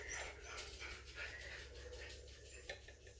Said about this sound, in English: The dogs are in now.